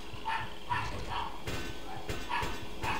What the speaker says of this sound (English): I'm hearing loud noises from my dog, which is not very appreciated.